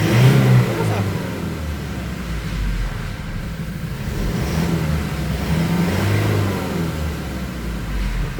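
A Toyota Innova 2.8 with a power-loss fault revs during a power test, its engine loud and near, rising and holding in long surges, with people talking over it.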